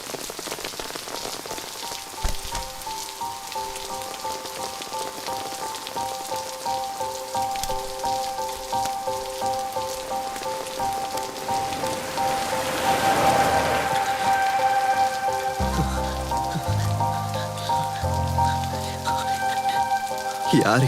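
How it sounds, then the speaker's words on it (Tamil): Heavy rain pours steadily onto surfaces in a broad, constant hiss that swells louder toward the end, with some brief low thuds and tonal sounds mixed in. "ஃபர்ஸ்ட் டைம்ல ஜான் இப்படி மழையில் நனையிறது."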